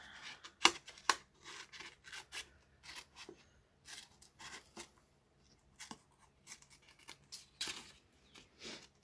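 Scissors snip through vintage tape paper in quiet, close, irregular bursts of short cuts and rustling, with brief pauses between strokes and no talking.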